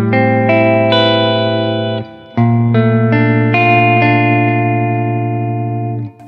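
Sustained electric guitar chords played on the middle pickup position ring out with a clear, slightly bright tone, two strummed phrases separated by a short pause, each note holding long.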